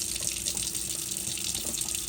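Water running from a kitchen sink faucet in a condo after the water supply was shut off and restored: a steady splashing stream with a constant bright hiss, close and moderately loud, with no voices.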